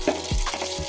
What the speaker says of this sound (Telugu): చిట్టపట్లాడని జీలకర్ర వేసుకోవాలి